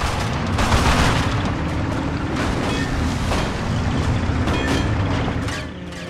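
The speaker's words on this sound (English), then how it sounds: "Nazi airstrikes are inbound." Airstrike explosions in the video game The Outfit: a loud, continuous rumbling roar of booms that holds steady and then eases off slightly near the end, with no speech.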